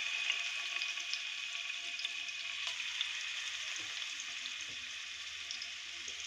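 Fish goes into fat melting in a home kitchen pan, giving a steady, close hiss and crackle of frying that runs unbroken, with a few sharper pops and faint stirring clicks and no voices.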